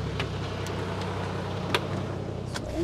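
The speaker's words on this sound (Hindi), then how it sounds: "And now I'm going to drive this car for the first time." A 1948 Ford F1 truck rolls along with a steady low engine drone, the sound holding at an even level with faint clicks and rattles above it.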